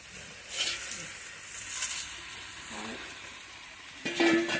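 Potato pieces sautéing in a pan for a potato and bori curry, giving a soft, steady sizzle with brief stirring scrapes and a louder burst near the end, close by and without speech.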